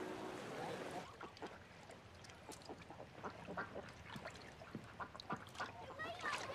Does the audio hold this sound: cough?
no